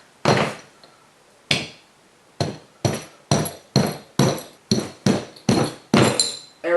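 A hammer taps out bolts on a power steering pump from a 1965 Ford Thunderbird, about a dozen sharp metallic strikes, the first few spaced apart, then a quickening steady rhythm, each ringing briefly, close and loud.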